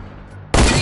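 A single sniper rifle shot in a video game, one abrupt loud blast right at the end after near silence.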